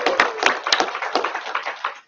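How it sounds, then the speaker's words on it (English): An audience breaking into a short round of applause at a regional business event, dense clapping that swells briefly and fades within about two seconds. "Let's give that a round of applause"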